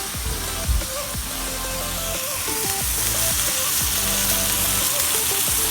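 Steak just flipped in a hot pan sizzles and crackles loudly and steadily, with a dense frying hiss throughout and no talk over it.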